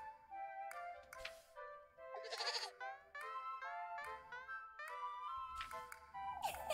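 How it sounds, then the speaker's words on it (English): A goat named Flock in the Little Goody Two Shoes video game bleats repeatedly in wavering, nasal calls, mixed with light game taps and ticks and no speech. "We're not taking the goat to town, Rosemarine."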